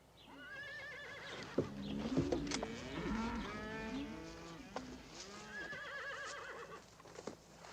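Horses neigh and whinny several times in a row, loud and close, with a few thumps mixed in and nobody speaking.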